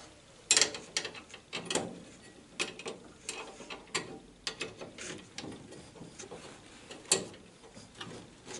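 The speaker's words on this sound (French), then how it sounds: "je vais mettre le boulon juste ici, avec le support" A bolt and its support bracket are fitted into a Citroën Xantia seat being installed in a Traction 11B, giving a series of close metallic clicks, ratcheting and scraping knocks at an irregular pace, fairly quiet.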